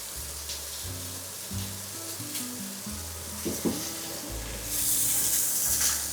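Pasta for homemade mac and cheese gets stirred in a pot, a soft scraping mixed with a constant background sizzle and a low steady hum, with no talk.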